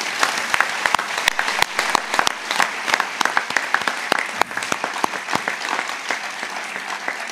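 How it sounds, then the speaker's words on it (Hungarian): A crowd claps loudly and steadily at the handover ceremony of the renewed Bujtor István stage in Tihany, with sharp individual claps standing out from a dense, sustained wash of applause. "Küldjünk neki egy tapsot, kérem."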